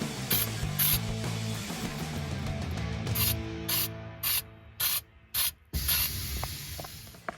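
Rust coating sprayed onto the floor of a 1979 Camaro Z28: about seven short, sharp hissing spray bursts in a stop-start rhythm, over a steady low hum and mechanical background.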